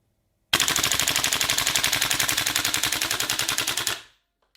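A gas blowback airsoft rifle fires one long full-auto burst of about three and a half seconds, a fast, even, close rattle of shots that then stops abruptly.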